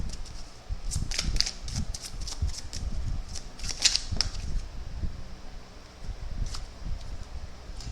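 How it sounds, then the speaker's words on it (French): An electric fan drones softly in the background as a low, constant whir, with scattered ticks and rustles on top and no talk. "Si vous entendez un petit bruit de fond, c'est normal, c'est que j'ai le ventilateur"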